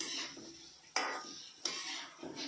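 Spoon scraping and clinking against a pan while brinjal and egg curry is stirred, with two sharp metallic knocks and soft scraping between them, close and fairly quiet.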